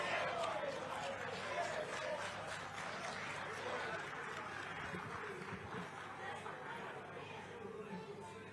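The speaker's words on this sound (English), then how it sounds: "Clap hands more" National Assembly members clapping during a budget session, a dense, steady patter of many hands in a large chamber, fairly faint and mixed with crowd murmur.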